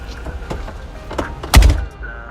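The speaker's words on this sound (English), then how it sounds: "what I tell you about banging my door?" A door banged shut in a home: a few light knocks and rattles, then one loud, close thump with a short boom, followed by quiet.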